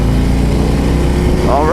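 A Harley-Davidson FXDR 114 engine drones loud and steady while the rider accelerates, with the engine note rising at the end of the short burst.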